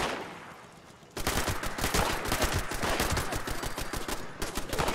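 Rapid automatic gunfire from a camp turret in Fallout 76 bursts in after a quiet second and keeps going steadily, loud and dense, with no voices over it.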